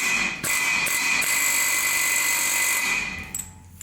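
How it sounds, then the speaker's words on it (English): An impact wrench or air hammer hammering on a bolt to shock a fan loose during a Trac Vac engine swap, a loud continuous mechanical rattle lasting about three seconds before stopping abruptly. "Then I'm going to get my impact or my air hammer"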